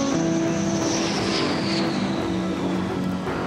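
Three Israeli Air Force F-15 fighter jets marked with the Star of David pass overhead, a loud continuous roar with a slowly falling whine, steady throughout.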